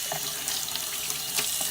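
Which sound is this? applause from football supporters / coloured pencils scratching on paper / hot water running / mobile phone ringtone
hot water running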